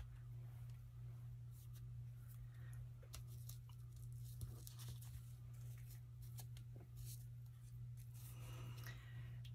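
Scissors cutting paper for a collage: a quiet run of small snips and paper rustles over a low steady hum, close and faint, with no talking.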